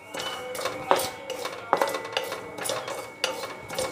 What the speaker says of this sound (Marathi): आपण खसखस गरम कढईत भाजून घेऊ